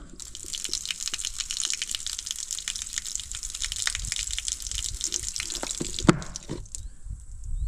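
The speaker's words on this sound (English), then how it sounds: "Water." Water from a rainwater collection system beside a firewood shed gushes in a steady, moderately quiet hiss, with a few small knocks near the end.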